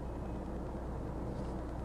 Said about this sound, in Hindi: जैसा कि आप सुन पा रहे होंगे इंजन की साउंड जो है वो केबिन में आ रही है आइडल कंडीशन में।